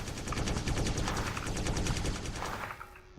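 Rapid gunfire from a shooting video game plays in dense, continuous bursts, loud and close, with no talk over it.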